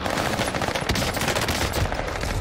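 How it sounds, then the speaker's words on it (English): Rapid automatic gunfire from a Call of Duty match on Rebirth Island, dense and continuous bursts filling the whole moment at close range with no talking. "Who else is shooting me?"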